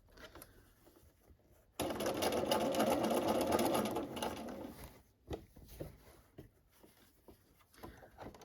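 A sewing machine runs in one steady, loud burst of about two seconds as fabric is fed straight through it for a tear-proof slit. A few quieter clicks and handling taps follow.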